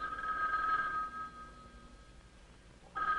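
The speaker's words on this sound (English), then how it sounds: "Now the phone rings." A farm interphone telephone bell from 1960 rings in a steady electric trill, pauses for about two seconds in near silence, then starts ringing again, moderately loud and alone.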